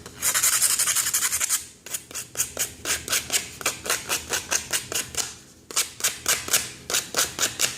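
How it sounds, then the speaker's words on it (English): Sandpaper rubbed over the cut edges of an aluminum soda can, heard as a steady rasp followed by a run of short, rhythmic scraping strokes, close and fairly loud, with no voices. "Take your sandpaper, gently sand your edges."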